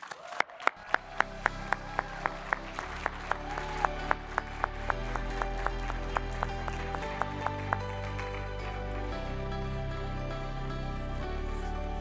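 Audience applause at a conference welcoming speakers to the stage, a dense wash of clapping from a crowd over a steady rhythmic musical beat with regular sharp accents, continuing at even volume.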